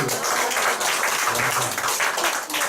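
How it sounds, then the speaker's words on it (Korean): A seated audience at a Nu Skin business presentation claps in a steady, dense wash of applause that stays evenly loud throughout, with no voice standing out. "박수 한번 보내주세요."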